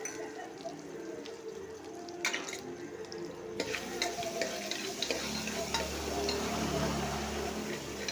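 Onions and garlic sautéing in a pan for roadside-stall style sambar, a steady soft sizzle with scraping and stirring noises running throughout, fairly close and moderately quiet.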